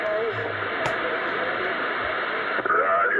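Crackly, hissing CB radio static from an AnyTone 6666 picking up skip, with a narrow, band-limited tone, steady throughout, with faint warbling sounds drifting in and out.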